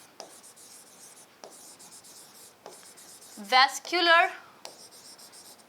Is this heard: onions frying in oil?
no